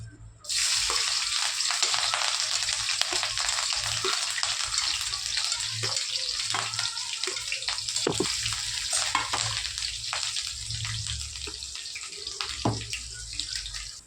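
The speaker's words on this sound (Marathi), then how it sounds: "तेल गरम झालं आता टाकत आहोत आपण हिरव्या मिरच्या" Green chillies drop into hot oil in a pan, setting off a loud, continuous hiss of frying that holds steady, with small crackles and pops scattered throughout.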